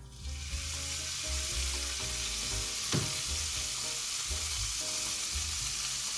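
Butter sizzles steadily in a pan for a lemon butter sauce, a constant bright hiss close up with occasional faint clinks and stirring scrapes underneath.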